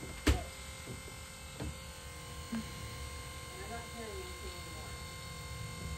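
A small electric pump on a yacht runs with a steady buzzing drone that holds through the whole stretch, close by, while people talk over it and a few faint knocks sound.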